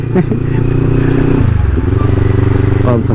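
A motorcycle engine runs steadily nearby while being ridden, its low droning note shifting pitch as the throttle changes, with someone talking over it.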